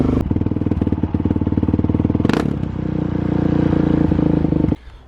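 Up close, a Kawasaki KLX351 motorcycle fitted with a new exhaust runs with a loud, pulsing idle, blips sharply once in the middle, then cuts off abruptly near the end.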